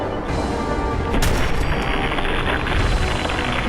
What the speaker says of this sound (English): I'm gonna shoot him in the face